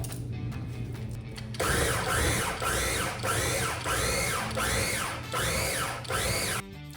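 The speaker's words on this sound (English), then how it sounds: "We're going to process the pepper together with the onion." A food processor chops bell pepper and green onion in six or seven short pulses, each a whirring blade burst that rises and falls, loud and close, following a quieter motor hum at the start.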